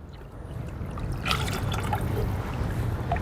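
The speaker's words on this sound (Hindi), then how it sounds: "अब इसमें हमने ऐड करना है 2 लीटर तकरीबन पानी" About two litres of water are poured into a pot of chicken hot and sour soup, making a continuous close splashing rush with gurgling that stays steady throughout.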